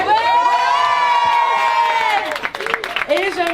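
An audience at a rooftop fashion show pop-up cheers and applauds: loud whoops and high shouted voices ride over scattered clapping, with the cheering swelling and then breaking into shorter calls.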